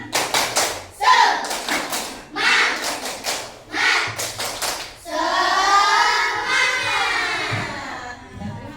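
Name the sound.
children clapping a cheer clap in class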